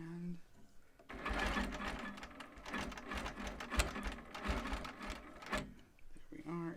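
A long arm quilting machine stitches quilt binding in a loud, steady run of rapid needle strokes lasting several seconds, with brief talk before and after.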